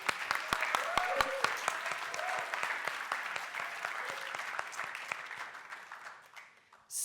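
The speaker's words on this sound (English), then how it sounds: "Huge applause for Andras." Applause from an audience at a startup pitch event fills the room with dense, steady clapping that slowly thins out and fades toward the end.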